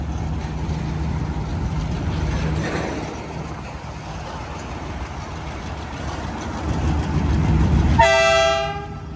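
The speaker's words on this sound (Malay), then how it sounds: "Kereta api sampai, dia akan bunyikan siren lah" A cargo train rumbles steadily past a railway bridge for several seconds, then its horn blasts loud and close near the end over the continuing wheel noise.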